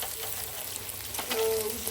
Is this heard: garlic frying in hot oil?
yes